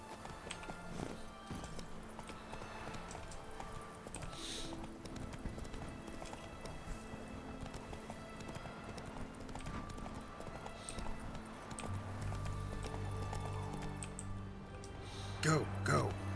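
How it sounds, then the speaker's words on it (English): Rhythmic hoof clip-clops of a galloping horse in The Witcher 3 run steadily under game music, with a brief whinny and a voice speaking near the end. "Come on, my magic horse."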